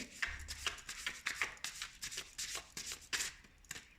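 Tarot cards shuffled by hand during a reading, a rapid series of crisp papery riffles and soft slaps in uneven bursts, close and fairly quiet, with no talking.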